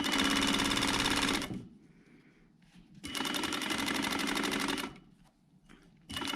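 A sewing machine stitches through fabric layered with wadding, running in two long loud bursts separated by a quiet pause while the presser foot is lifted to turn the corner, then starting again briefly at the end.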